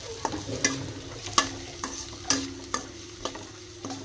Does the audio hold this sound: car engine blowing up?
no